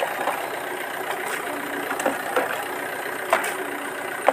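A car engine idling steadily while water is sprayed onto its AC condenser, a constant mid-level rumble with faint clicks and splashes over it, close and continuous with no talk.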